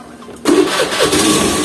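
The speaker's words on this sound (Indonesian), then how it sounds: "sekarang mesinnya baru kita hidupin" A Honda Beat scooter engine starts abruptly from near silence, catching at once and settling into a steady, close, mid-pitched running hum with a few early pulses.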